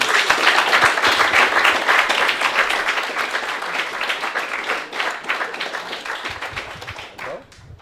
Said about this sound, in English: Could you give them a massive round of applause, please?